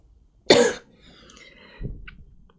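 A single sharp, close cough, followed by a faint, softer throat sound a moment later in a quiet room.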